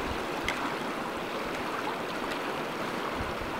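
Water poured to fill a jar: a steady, unbroken rush of splashing flow that stays at an even loudness from start to finish, with no talking.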